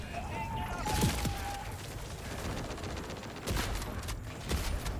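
Gunfire in the video game Borderlands 4, bursts of rapid shots and impacts in sporadic clusters, fairly faint, mixed with game effects beneath a speaking voice.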